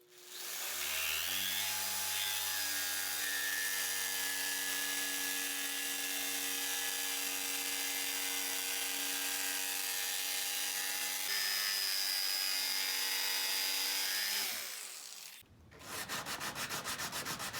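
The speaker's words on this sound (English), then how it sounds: "jigsaw is great for cutting" A jigsaw runs steadily and loudly with a droning motor tone, cutting a notch in a luxury vinyl plank for about fourteen seconds before stopping, followed by brief rough rasping.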